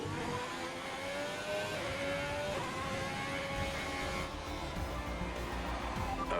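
An F1 race car from the game F1 2020 drives through a final corner with front wing damage, its engine whining and shifting pitch steadily as it accelerates, heard under a constant mechanical drone.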